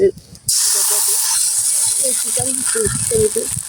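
Oil sizzles loudly in a hot pan over a clay stove, with a bright, sustained hiss that starts suddenly and holds steady, while a person talks over it.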